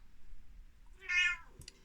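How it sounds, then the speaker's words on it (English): A cat meows once, a short, clear, close cry in the middle of quiet room noise, followed by a faint click. "My cat is getting very demanding now"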